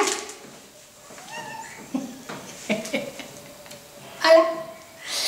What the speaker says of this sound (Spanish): Que no hace más que maullar y maullar porque quiere comer.